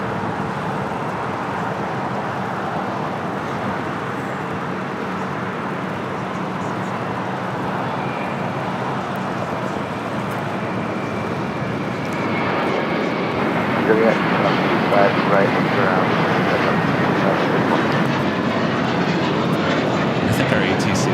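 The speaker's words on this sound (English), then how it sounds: "Delta Airlines 2534 coming in from San Antonio," A Delta Airlines Airbus A319 arriving at LAX from San Antonio gives off a steady, broad jet roar that swells louder as it approaches, with talk faintly underneath.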